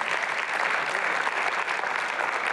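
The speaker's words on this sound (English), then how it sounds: "give the Lord a hand clap right there" Church congregation giving a hand clap during a sermon, an even, full burst of many hands clapping together that carries steadily through, with no voices heard.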